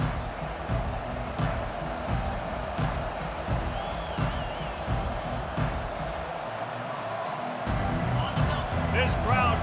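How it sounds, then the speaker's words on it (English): Stadium crowd in a college football video game: a steady, roaring wall of crowd noise with swelling cheers, heard under continuous play-by-play commentary. "This crowd trying to make life miserable for this offense"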